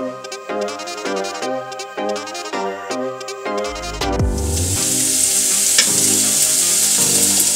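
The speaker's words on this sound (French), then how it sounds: "Vous chauffez l'huile et vous mettez vos oignons violets." Red onions hit hot oil in a pan, opening with a few clunks and stirring sounds before a loud, steady sizzle takes over and continues.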